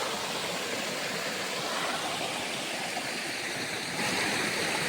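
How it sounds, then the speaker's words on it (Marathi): A waterfall beside a pond and gated area, a steady loud broadband rush of falling water that continues unbroken throughout. "चला तुम्हाला जवळून दाखवतो आपला धबधबा ते बघू"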